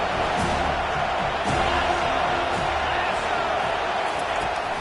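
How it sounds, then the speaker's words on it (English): A football stadium crowd at a Notre Dame vs Florida State college game roars on third down, a loud, dense, sustained wall of cheering that holds steady throughout. "Decibels rising as the crowd gets behind this defense on third down."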